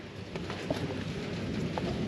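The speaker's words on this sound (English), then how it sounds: "And now that it's raining, I don't know how much it's going to rain." Rain falling outdoors near an old dozer being worked on, a steady close wash of hiss with scattered drops, unbroken and alone without talk.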